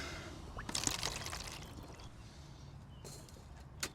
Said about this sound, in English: what I'm going to do is fill this with water and cook up some noodles